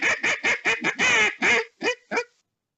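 A wooden duck call blown to imitate a mallard hen, giving a rapid string of about nine loud, nasal quacks that start fast and slow toward the end, close and alone.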